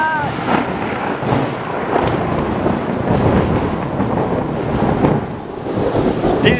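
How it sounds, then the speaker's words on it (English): Thunder rumbles through a stormy outdoor scene, a loud continuous broadband roar with gusting wind noise on the microphone and a few voices reacting in the background. "There's a storm coming, Harry."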